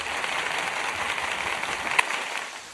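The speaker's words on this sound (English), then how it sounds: "Hey Todd, can we cue the claps for Cade Davis's crazy season, please?" A cued applause sound effect on a college sports podcast: a sustained wash of many hands clapping at moderate level, with one sharper clap standing out near the end before it fades.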